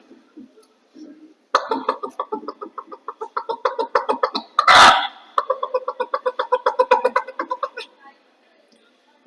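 A voice imitates chicks with rapid, high cheeping peeps in quick bursts, close up, broken once by a brief harsh burst, performed as a mimicry act at a school arts festival.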